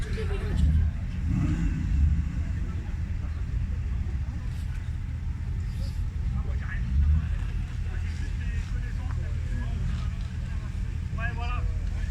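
A red Ford Mustang with an automatic gearbox idles and revs with a low, continuous engine rumble at a car meet, its throttle swells rising and falling while people talk nearby.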